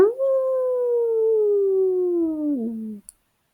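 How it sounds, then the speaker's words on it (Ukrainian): A single long, sustained wolf howl with a steady tone that slowly falls in pitch, loud and close, ending abruptly after about three seconds. "адже вовчик виє дуже голосно"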